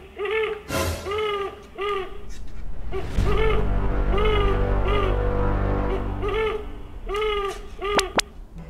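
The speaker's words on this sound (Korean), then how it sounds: "부엉이 소리." A recorded owl hoots in a series of short, hollow calls, with a steady low rumble underneath and a brief clatter near the end.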